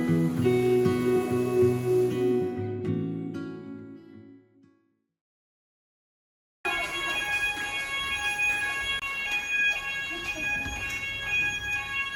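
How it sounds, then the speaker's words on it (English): A fire alarm sounds at a canal side spa, a loud steady tone with ringing overtones that fades out into a few seconds of silence before the alarm cuts back in at full strength over a busy background. "the fire alarm started going off"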